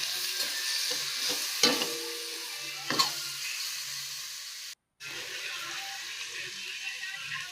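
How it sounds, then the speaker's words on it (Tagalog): String beans frying in a pan for a Filipino home-cooked dish, with a steady sizzle under scraping stir strokes and a brief silent break partway through. "Haluin lang po natin."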